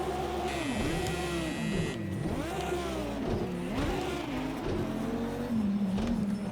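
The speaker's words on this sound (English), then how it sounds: "The Hurricane GT3. We're going to see what these cars can do." A Lamborghini Huracán GT3 race car, rear-wheel drive, races on dirt in a video game, its engine loud and close as it revs up and down through repeated gear shifts, with other cars blending in.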